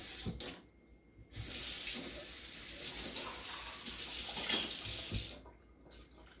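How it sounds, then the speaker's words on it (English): Water runs from a kitchen tap for about four seconds to rinse out an emptied can of red Mexicali sauce, a steady close hiss with brief quieter moments before and after. "Just rinse in the water from the can to make sure all goes in."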